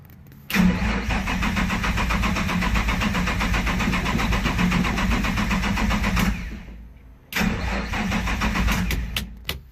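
A Nissan RB25 engine cranks hard on ether, a loud, close, fast-pulsing starter whir that runs for several seconds, stops briefly, then resumes cranking without catching.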